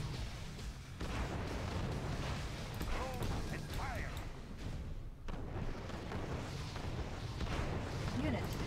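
Warship artillery in the Red Alert 2 real-time strategy game, heavy booming and rumbling fire that runs continuously and loudly under a dense mix of other battle effects.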